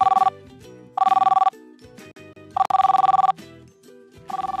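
A telephone bell rings in repeated loud bursts, four rings with short gaps between them, alone with no talking over it.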